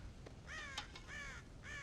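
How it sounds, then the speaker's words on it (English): Crows cawing in the Red Dead Redemption video game: several harsh caws in quick bursts at moderate distance, standing alone with no talk over them. "God damn crows!"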